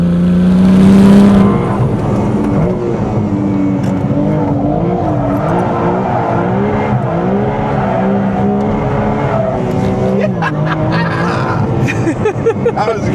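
Ferrari 296 Speciale accelerating hard on a track, engine loud and close as it rises through the revs with sweeping pitch changes and shifts over about thirteen seconds.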